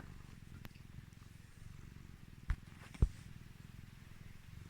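A large, British-size pet cat purrs up close in a low, steady, rhythmic rumble. It is quiet throughout, with a couple of faint soft knocks.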